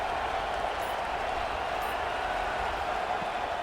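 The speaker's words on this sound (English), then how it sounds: "The crowd electric, trying to help Tech on this 3rd down." A packed stadium at a college football game, Oregon at Texas Tech, roars in a steady, dense wash of crowd noise that holds evenly throughout, with no clear voices on top.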